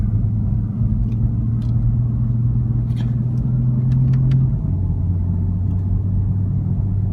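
A BMW F82 M4 engine produces a deep, steady growling rumble while driving, loud and close from inside the car, with a slight drop in pitch partway through and no talking.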